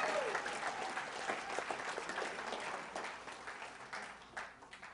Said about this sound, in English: how about we give a round of applause to Bernard for keeping it in right now